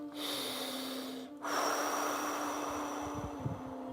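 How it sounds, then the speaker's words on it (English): A guided breathing exercise: one long, close, airy breath is drawn in, followed by a brief pause and then a long, forceful breath pushed out, heard alone against a quiet background. "Let's start breathing again."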